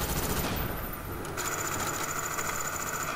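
Continuous rapid automatic gunfire in a video game, a dense rattling stream of shots without pause, moderately loud throughout.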